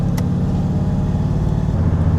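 A BMW E32 735iL with a swapped-in LS1 V8 runs close by with a deep, steady engine rumble and a slight lift in pitch near the end.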